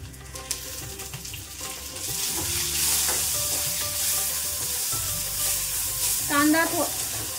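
Chopped tomatoes go into hot oil in a pan for misal, and the frying jumps into a loud, broad sizzle that continues steadily, with brief stirring clinks and a faint voice nearby.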